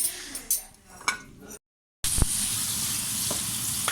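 Food frying while jalfrezi is cooked, a steady loud sizzle after a short cut, with faint clinks of a utensil against the pan, preceded by quieter kitchen clatter.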